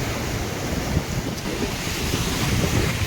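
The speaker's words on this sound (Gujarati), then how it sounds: "અત્યારે તુફાનની જેમ મોજા આવી રહ્યા છે" Stormy sea waves surge and crash against a rocky shore near the Ratneshwar Mahadev cave temple, sending up tall sprays; a steady, loud roar of surf with gusting wind buffeting the microphone and no voices.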